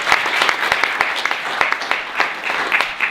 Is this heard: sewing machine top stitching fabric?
no